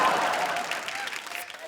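Audience at an awards show bursts into dense applause that begins loud and gradually thins and fades, with a voice heard over it.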